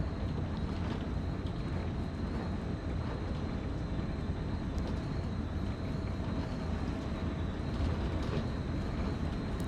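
Steady rattling rumble and rushing wind noise inside a moving train cab in a train simulator game on the Peninsula Corridor, with no locomotive engine sound, continuous and fairly loud throughout.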